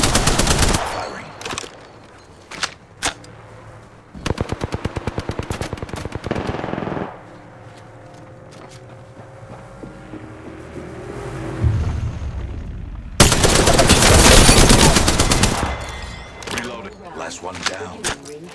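Loud bursts of automatic gunfire from the battle royale game Apex Legends, several long rapid volleys separated by quieter stretches, with a final sustained barrage near the end.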